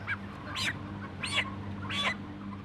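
Several separate honking, squawking calls from fast-growing chickens rise over a low steady hum, spaced out and fairly close.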